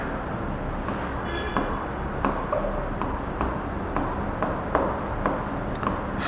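Chalk or a marker scratches and taps across a board in short, repeated strokes, close and steady, with light rubbing and clicks between the strokes.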